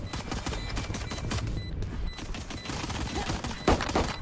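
Video game gunfire aimed at a wall, rapid repeated shots in a steady burst with sharp impact cracks, a louder hit near the end, mostly without talk.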